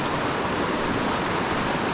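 A creek flows under a footbridge on the hike to Havasu Falls, a constant broadband rushing of water, loud and close, with no pauses or talk.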